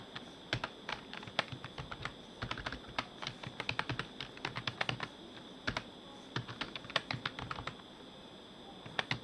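Fingers tap out a remark on a computer keyboard, quick irregular clicks of individual keys close by with short pauses between bursts.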